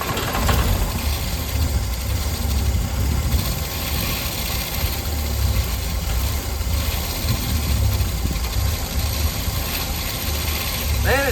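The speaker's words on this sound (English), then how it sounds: "Well, the engine sounds great." An engine idles steadily after a Carter one-barrel carburetor rebuild, a close, even mechanical rumble running throughout with a person speaking over it.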